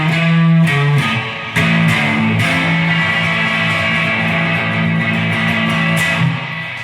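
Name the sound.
blues turnaround ending on guitar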